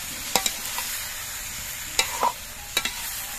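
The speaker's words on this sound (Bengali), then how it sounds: "এবার সবকিছু দিয়ে একসঙ্গে আরো কিছুক্ষণ কষিয়ে নিতে হবে।" Broccoli and potatoes stir-fried together in a pan, with a steady low sizzle broken by a few sharp scraping clicks of the spatula, close and alone without voices.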